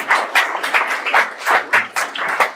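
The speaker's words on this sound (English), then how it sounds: "Please give Ingrid a big round of applause." A live audience at a talk applauds a participant with scattered, uneven clapping that comes in short bursts and stays fairly close and moderately loud for a few seconds.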